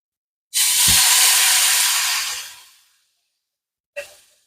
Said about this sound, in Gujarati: તો હવે આપણે આ દાળ એમાં નાખી દે